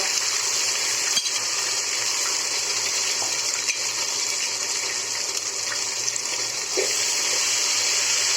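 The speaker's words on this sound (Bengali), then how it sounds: "রসুনের সঙ্গে সুন্দর করে ভেজে নেব।" Marinated chicken coated in pepper, ginger-garlic paste and soy sauce fries with garlic in a continuous loud, dense sizzle, broken by a few faint clicks.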